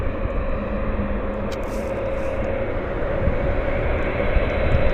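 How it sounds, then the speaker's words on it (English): Korean Air airliner taxiing at Vancouver airport, a steady, moderately loud jet engine drone that holds level and swells slightly toward the end, with no talking. "we've got Korean Airlines pushing back"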